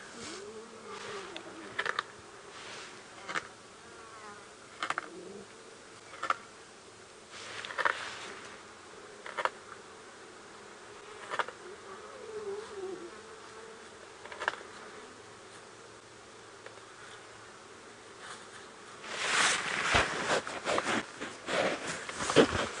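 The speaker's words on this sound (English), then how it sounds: "That noise is not bone, that's cutting through that thick, thick skin." Lions feeding on a big buffalo bull, tearing through thick hide at an outdoor safari sighting: irregular wet ripping and crunching bursts at a moderate distance over faint insect buzz, growing denser toward the end.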